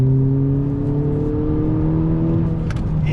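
Engine of a 2020 Honda Civic Si sedan on a fast drive, a steady loud droning hum with shifting pitch as the car brakes and downshifts, heard close from inside.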